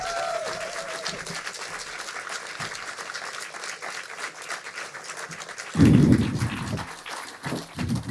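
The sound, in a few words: audience applause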